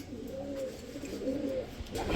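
Gorra pigeons coo close by in soft repeated rolling notes over a steady low background hum, with no talk.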